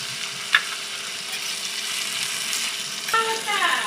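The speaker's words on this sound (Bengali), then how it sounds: "ভালো করে নাড়িয়ে নেব, সুন্দর করে ভালো করে পোড়া পোড়া করে ভেজে নিতে হবে।" Cut potatoes with salt and turmeric fry in a pan, giving a steady close sizzle with faint stirring scrapes and a brief clink early on, while a tonal whine rises near the end.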